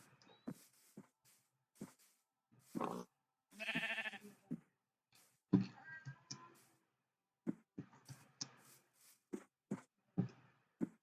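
Minecraft sheep bleat in short, scattered calls, with one longer, louder wavering bleat near the middle, separated by quiet gaps and small clicks of gameplay.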